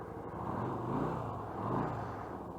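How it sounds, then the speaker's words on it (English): A carbureted 2013 Yamaha V Star 250 motorcycle idles with a steady, throaty low rumble that swells gently twice, heard close up with no talking. "You can see it fires right up. I love the sound of the VStar."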